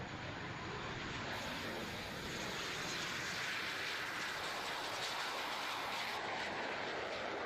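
A Hawker Hunter T-7B jet, formerly of 208 Squadron at RAF Lossiemouth, passes at a 2001 British airshow with a continuous, loud, broad roaring rush that holds steady for the whole stretch.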